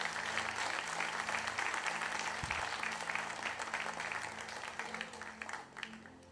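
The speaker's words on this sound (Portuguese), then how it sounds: "Aplaudir." Church congregation clapping during a sermon, a fairly quiet, even wash of applause from many hands that fades slightly toward the end.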